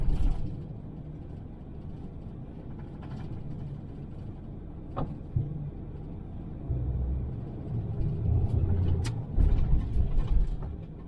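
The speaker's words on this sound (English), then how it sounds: "We'll wait for this tow truck." A tow truck passes along a road, a steady low engine rumble that grows louder and heavier toward the end, with no one talking.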